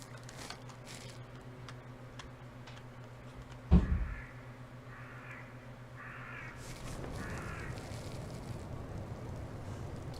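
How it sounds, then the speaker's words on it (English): Crows in the video game Skyrim caw four times in a row in the distance over a low ambient hum, after a sharp thump, followed by a rising wash of background noise. "I hear the crows."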